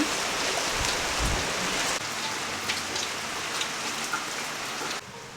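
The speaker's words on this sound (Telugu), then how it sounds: "ఎప్పుడైతే నుండి వర్షంతో పాటు బాగా గాలి తీస్తుంది చాలా చలిగా ఉంది కూడా" Steady rain falls with a constant hiss and patter, with low gusty rumbles suggesting wind, fairly loud and close.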